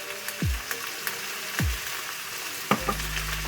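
Turmeric, chilli and coriander powders stirred and cooked in oil for a brinjal curry, a low sizzle broken by three deep thudding stirs or scrapes against the pan, with light clicks between them.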